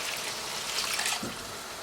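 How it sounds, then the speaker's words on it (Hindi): Water from a filled cup poured into a pan of frying minced keema and potatoes, a steady close splashing hiss lasting under two seconds with no talk. "यहाँ पर अब इसमें ऐड करेंगे पानी।"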